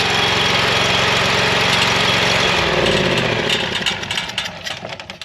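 A Vanguard 23 hp Briggs & Stratton mud motor runs loud and close with a steady rough drone and a slight rattle, its pitch and level dropping toward the end as it winds down.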